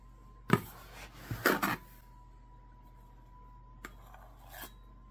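The back of a butter knife scrapes across a measuring cup to level off sugar, making a few short rasping strokes and light metallic clinks in a quiet kitchen.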